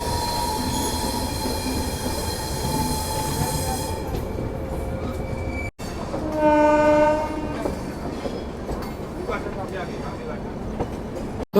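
The 12016 Ajmer–New Delhi Shatabdi Express runs loudly with a steady rumble and rail noise, then after a sharp break a brief horn-like tone and squealing wheels stand out over continued rolling clatter.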